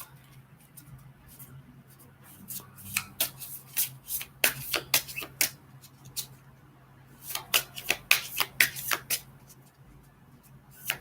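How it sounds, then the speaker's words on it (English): Quick bursts of tarot card shuffling, riffling in two clusters of rapid flutters with quiet pauses between, close and fairly soft. "Then the cards would fall on the floor as I'm shuffling."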